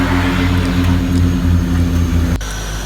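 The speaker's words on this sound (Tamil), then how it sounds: "பிளேன் இறங்கியாச்சு." Loud, close roar of an airplane cabin as the aircraft lands on a short runway at Pokhara, a heavy steady engine rumble that drops abruptly in level near the end.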